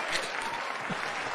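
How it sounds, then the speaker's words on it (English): A crowd claps steadily in a dense, even patter of applause with no voices standing out. "Let's give them a round of applause, man."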